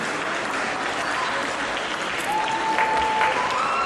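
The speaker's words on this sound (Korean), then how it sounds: "북한의 응원단이 열띤 박수로 두 사람을 환영한다." North Korean cheering squad applauding at a men's singles table tennis match at the Asian Para Games, a loud, steady, continuous burst of clapping that swells slightly toward the end.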